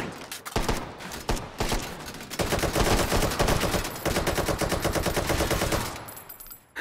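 Rapid automatic gunfire from a VR shooter, Hot Dogs, Horseshoes & Hand Grenades, firing in dense sustained bursts for several seconds before stopping as the weapon runs dry, loud and close with no talk.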